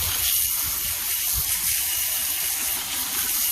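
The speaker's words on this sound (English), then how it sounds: "let's get it out to the water hose and get it cleaned up" A garden water hose sprays steadily onto a metal part fresh from electrolysis cleaning, washing off black oxide, with a continuous close hiss and gush of water and no speech.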